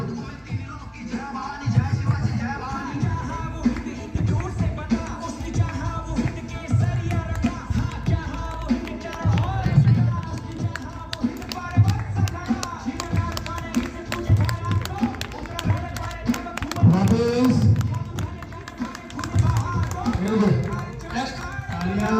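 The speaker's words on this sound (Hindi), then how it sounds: "तालियों की आवाज रुकनी नहीं चाहिए।" Staff members clapping together in a steady rhythmic pattern of repeated beats, loud and sustained, while a voice talks over it.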